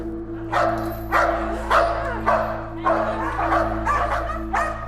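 A trained attack dog barks repeatedly in sharp, loud bursts during prison bite-work training, with roughly six or seven barks and yips spaced about half a second apart over a steady low hum.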